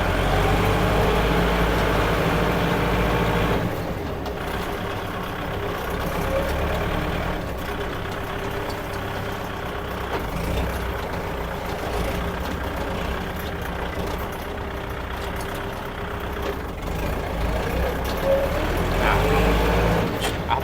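Kubota L5018SP farm tractor, low-hour and in original paint, with a steady diesel engine rumble close by, shifting loudness as it runs through its gears.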